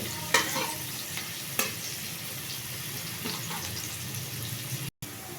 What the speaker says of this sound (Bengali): পেঁয়াজটাকে একটু বেশ বাদামি কালার করে ভেজে নেব থেকে এইভাবে বাদামি রং হওয়া পর্যন্ত ভাজব